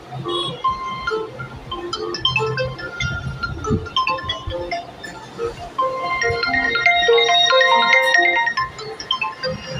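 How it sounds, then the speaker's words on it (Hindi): A ringtone melody plays from the newly replaced ringer speaker of an Oppo A38/A18 phone, a tinkling series of notes growing louder and denser toward the end over a low background rumble. "फिट कर दिया गया है रिंगर, अब टेस्ट करने का टाइम है।"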